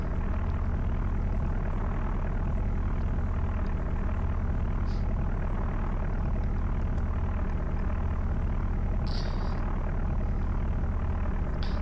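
A Grumman Goose aircraft cruising in a flight simulator game, its engines a steady, loud, unbroken propeller drone throughout, with no talk.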